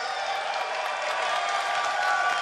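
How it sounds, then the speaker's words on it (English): A large convention crowd at Blizzcon 2011 cheers and applauds loudly for a 3v3 arena match, a sustained, dense roar that swells slightly toward the end. "Can I hear some noise from the crowd at Blizzcon 2011?"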